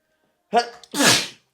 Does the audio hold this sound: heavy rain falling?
no